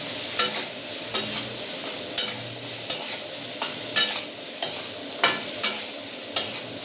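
Spoon stirring tomato and soaked cashews in hot oil in a pan for egg korma, with a steady sizzle and about a dozen evenly spaced scraping clacks, close and alone.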